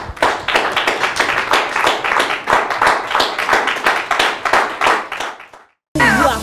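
A church congregation clapping and applauding in praise, a dense, steady wash of many hands sustained for several seconds before cutting off abruptly, followed by a short burst of music.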